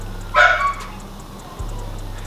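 A single short dog bark rings out close and fairly loud, one brief burst, then a steady low mechanical hum continues underneath with no talking.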